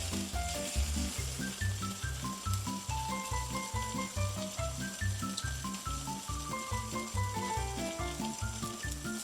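Bologna slices sizzling in a frying pan, a continuous close hiss and crackle with music playing underneath throughout, no one speaking.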